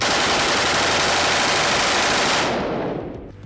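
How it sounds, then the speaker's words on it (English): A fully automatic M4 rifle empties its magazine in one continuous, dense roar of rapid gunfire, loud and close, which stops abruptly and leaves a short fading echo. "co-host Joseph D'Ambrosia mag dumping a fully automatic M4"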